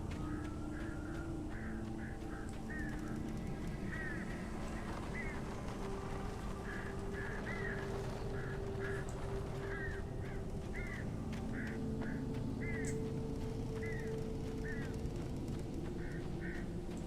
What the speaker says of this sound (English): A lot of angry birds.